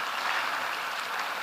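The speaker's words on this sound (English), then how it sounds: "Please give yourselves a round of applause." Audience applause at a digital and innovation week event in Ghana, a steady wash of many hands clapping at moderate distance, filling the whole moment without any voices.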